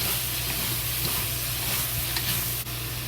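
Sliced pork and cucumber fry in a hot pan with black pepper or Chinese brown spices, giving a steady, close, even sizzle and hiss throughout, with one brief sharp tap near the end and no speech.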